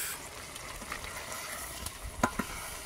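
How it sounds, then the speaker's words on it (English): Beef is stir-fried in a wok at an off-grid village cookout, with a soft ongoing sizzle and a few sharp scrapes and clanks of stirring near the end. "stir fried beef"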